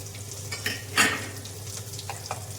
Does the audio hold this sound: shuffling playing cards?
no